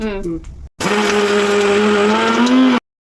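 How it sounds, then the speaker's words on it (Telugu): A kitchen mixer grinder whirs loudly with a steady high motor whine for about two seconds, grinding coriander and ginger into powder, starting abruptly after a brief voice and cutting off sharply. "ఇప్పుడు మళ్ళీ మిక్సీ పడతా"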